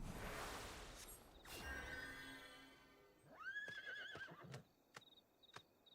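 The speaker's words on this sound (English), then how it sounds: "Injured mare. In great pain." A horse in great pain whinnies with a wavering, quavering neigh inside the Final Fantasy 14 video game, following a whooshing sweep, and then several sharp clip-clop hoof knocks ring out close and clear.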